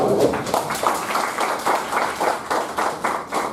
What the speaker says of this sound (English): First of all, a big round of applause.